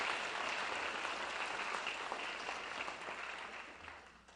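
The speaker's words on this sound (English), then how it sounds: "Can we have another round of applause?" Audience at a Woody Williams legacy of service celebration applauding steadily after a song, a dense wash of clapping that stays even and then gradually thins and fades toward the end.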